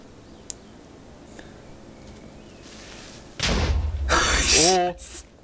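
A Minecraft creeper explodes in water: a sudden loud boom bursts in, followed by a rumbling, crackling tail that fades out quickly; quiet background sounds come before it.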